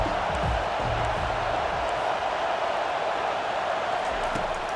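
Dense, steady stadium crowd roar fills a college football video game, a broad continuous wash of voices with no clear breaks, holding at an even level throughout.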